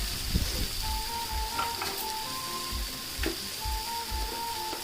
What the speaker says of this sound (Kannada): ಫ್ಲೇಮ್ನಲ್ಲಿ ಸ್ವಲ್ಪ ಫ್ರೈ ಮಾಡಿಕೊಡ್ರಿ